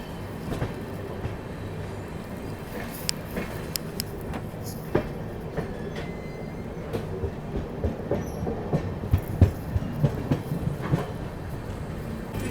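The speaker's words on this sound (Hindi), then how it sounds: "चलिए अपनी ट्रेन ने हल्की सी स्पीड पकड़ ली है" The 12559 Shiv Ganga SF Express from Banaras to New Delhi rolls slowly along the rails, heard from aboard as a steady rumble with rhythmic wheel clicks growing more frequent as it gathers speed.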